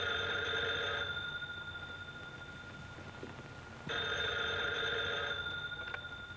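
A vintage telephone bell rings in a 1940s crime-drama office scene, two long steady bursts separated by a short pause, clear and fairly close with a faint room hum beneath.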